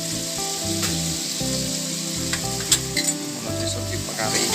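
Vegetables frying in a pan give a loud, steady sizzle with crackling pops and occasional stirring, close up and without talk.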